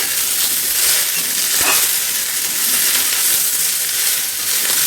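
Soybean chunks, chopped tomato and onion sizzle and hiss steadily in a hot pan while being stirred, a loud continuous frying sound with occasional scraping, no voices.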